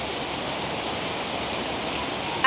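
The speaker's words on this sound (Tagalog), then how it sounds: "Grabe yung lakas ng ulan." Heavy rain pouring down in Manila, a dense, steady roar of downpour filling the whole clip at constant loudness, with no voices.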